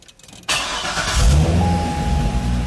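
A Chevrolet Corvette with ABS and traction control warning lights on cranks and fires up after a short quiet moment, then settles into a loud, steady idle close by.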